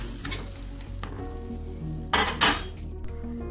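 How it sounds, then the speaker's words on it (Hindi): A roti flipped over on a hot pan, a soft sizzle under faint clinks, then two bright bursts of hiss and scraping as it turns, close and clear without talk. "तो अब एक तरफ से अच्छे से सिक गई है, चलिए इसे दूसरे साइड से पलट लेते हैं।"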